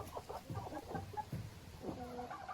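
Roosters in a wooden chicken coop, young cockerels four to six months old, clucking and calling in repeated bursts, moderately near over a steady murmur of other birds.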